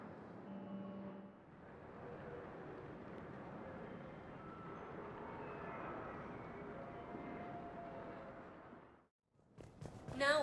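A rapid transit car in Mass Effect 3 travels with a steady rumbling whoosh for about nine seconds, then cuts to near silence before a brief rise of new sound at the end.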